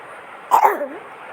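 A single short, sharp cough with a quick double burst, close and fairly loud, against quiet room noise.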